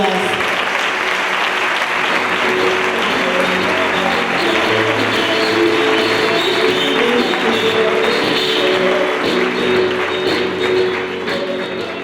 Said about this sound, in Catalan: Un fuerte aplaudimiento para ellas.